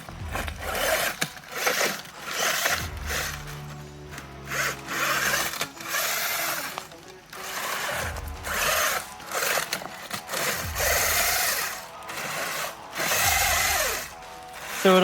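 A WLToys 12428 rock racer RC car fitted with 100mm tires and 1.9-inch beadlocks, its electric motor whining and surging in bursts as it drives over rough terrain, loud and close with varying pitch.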